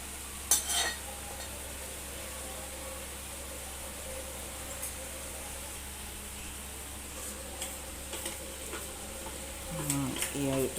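Mutton curry with tomatoes and garam masala cooking in a pan, a steady soft sizzle under a low hum, broken by occasional scrapes and clinks of a spoon stirring, with brief talk near the end.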